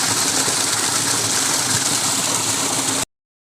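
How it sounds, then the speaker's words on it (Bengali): Steady motor drone from a pump pushing irrigation water through a long pipe on a farm field, a continuous even hum with hissing water noise that runs unbroken for about three seconds and then cuts off abruptly. "এই দেখুন এই মোটর এক জায়গায় আর জল যায় পাইপের দ্বারা অনেক দূর দূর"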